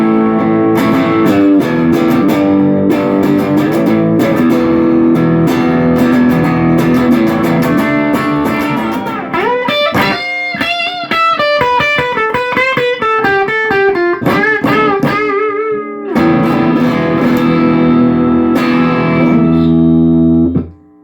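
Electric guitar riffing and chords from a Fender Mexican Telecaster driven through a Marshall Shred Master distortion pedal, loud and continuous with a brief cleaner picked passage in the middle before heavy distorted chords return.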